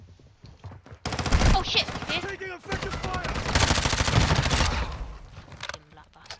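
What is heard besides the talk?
gunfire in the video game Call of Duty Warzone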